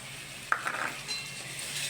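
A ground paste of ginger, green and ripe chillies, cinnamon, bay leaf and a little cumin hits a hot pan, with a sudden short clink followed by a soft sizzle and a faint rattle, no talk.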